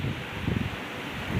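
Wind gusting outdoors along a village path in rural West Sumatra, a steady broadband rush with low buffeting swells near the microphone, rising and falling over a brief moment with no talk.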